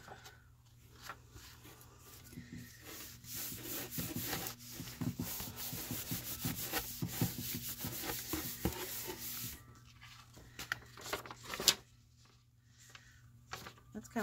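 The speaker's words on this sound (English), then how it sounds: "I think I want a different piece of paper to dry this one up with." Steady soft rubbing and dabbing of a paper sheet blotting wet paint on another sheet, close by, with brief pauses and a sharper tap near the end.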